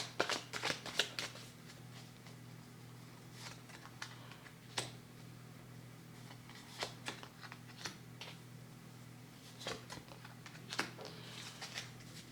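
Petit Lenormand cards being shuffled in repeated soft riffling bursts that come and go over a steady low hum, close and fairly quiet, with no talking.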